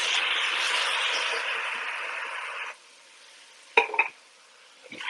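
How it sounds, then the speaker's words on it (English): Tomatoes tipped into a pot of toasted spices for a veggie chili set off a loud, steady broadband sizzle that cuts off sharply, followed by a couple of brief clanks of a utensil against the pot. "So we're going to go ahead and add our tomatoes."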